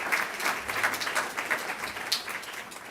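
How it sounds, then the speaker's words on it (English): An audience at a Boston University event applauds steadily for the university's First Lady, a dense wash of hand claps filling the room at moderate distance without pause. "Please stand and give her a round of applause."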